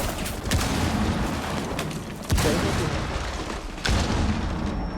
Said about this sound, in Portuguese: Tá tudo explodindo, eu nunca vi isso na minha vida